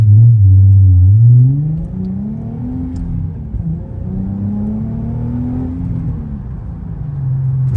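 A modified car engine revs and pulls hard while driving, a loud, steady close-up drone that sweeps up in pitch in several rising surges before settling back to a low hum.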